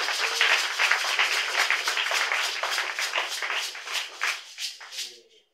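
Congregation in a church applauding loudly and steadily, a dense wash of many hands clapping that carries on for several seconds before tapering off at the end.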